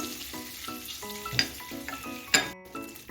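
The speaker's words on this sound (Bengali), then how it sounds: "এবার দারচিনি ফোড়নটা একটু ভেজে নিচ্ছি এক মিনিটের মতো গ্যাসটা লোতে রেখেছি" Cinnamon tempering frying in oil in a pan on low gas for paneer butter masala, a steady close sizzle with a few sharper crackles and occasional clinks of a stirring utensil against the pan.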